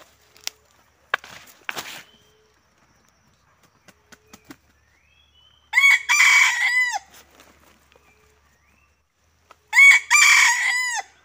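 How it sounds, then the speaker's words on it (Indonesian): A red junglefowl crows twice, loud and near, several seconds apart, with scattered clicks and faint clucking in the quiet between. "Ini memang keturunan ayam hutan merah ya"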